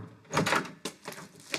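A hand knocks on a door several times in an uneven rhythm, with a cluster of raps followed by a few single knocks, close and fairly loud.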